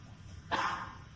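A dog gives a single short bark, moderately close and fairly loud, rising above a steady low background hum.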